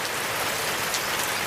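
Heavy rain falling outdoors, a dense, steady hiss of drops pattering on surfaces, close and unbroken for a brief moment.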